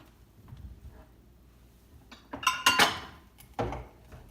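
A metal trivet is set down inside an Instant Pot, giving a few clinking, clattering metallic knocks against the inner pot, close and fairly loud with short gaps between them.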